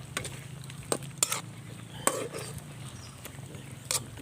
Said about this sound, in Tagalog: Haluin muna natin guys.